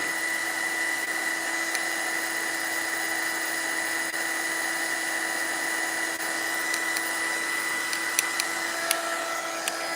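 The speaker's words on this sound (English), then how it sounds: "Just move your heat gun from one place to another." A heat gun drying paint on an altered IKEA Christmas tree craft, a steady close blowing whine that holds level throughout with a few faint clicks near the end.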